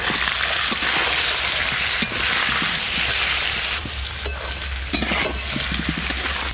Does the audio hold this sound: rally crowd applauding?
no